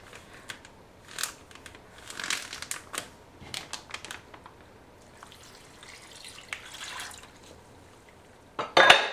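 A plastic container of Chamorro BBQ marinated chicken being sealed, heard as close clicks, rustles and wet crinkling, then a sharp snapping press at the end.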